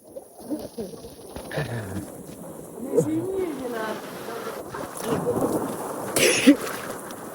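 Rain falls outdoors in an uneven, rustling patter. Occasional louder bursts and distant voices come through the rain.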